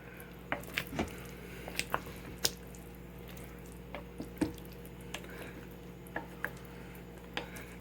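Meatballs in mushroom sauce being stirred in a pot, giving soft wet squelches and sharp spoon clicks at irregular intervals over a low steady hum, with no talking.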